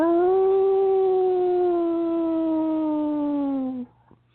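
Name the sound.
wolves howling in the distance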